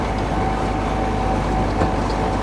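Steady low engine rumble of a tractor carrying riders through a village, droning continuously and close without a break, with no talk.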